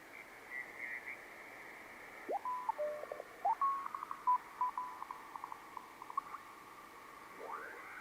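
Morse code tones received on amateur radio via a multi-band vertical antenna on 80 meters, a faint series of short and long beeps keyed in irregular groups over steady hiss and a brief carrier whistle.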